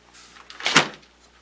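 A door swings shut once indoors. A brief scrape builds into a single solid thud near the middle, with quiet room tone before and after.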